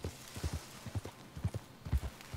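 Horse hooves clip-clop in a steady, even rhythm in Red Dead Redemption 2, close and moderately loud over faint background ambience.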